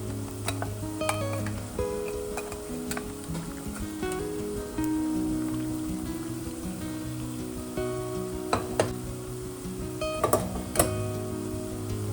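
Onions frying in oil in a pan during mutton yakhni pulao preparation, a steady low sizzle running throughout with occasional clicks and light stirring knocks.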